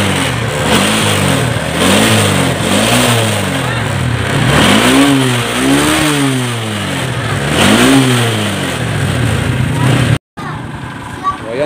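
A Honda Wave 125 motorcycle with a smoky, worn engine revs repeatedly in rising and falling surges, loud and close, with a voice speaking over it, then cuts off abruptly near the end.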